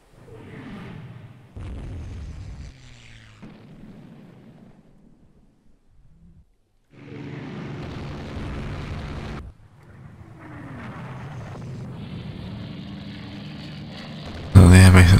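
Explosions shake a bombed airbase in the naval strategy game Rule the Waves 2. Rumbling booms come in several separate waves, some long and rolling, and the clip ends on a sharp, loud blast. Speech is heard in places.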